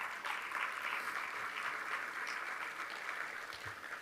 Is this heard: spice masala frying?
no